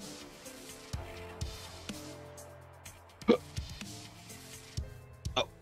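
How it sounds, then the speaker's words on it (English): Several quiet hiccups sound over an Escape from Tarkov game session, short abrupt catches spaced a second or two apart, with soft game ambience and music underneath. "Oh, who got the hiccups like me earlier?"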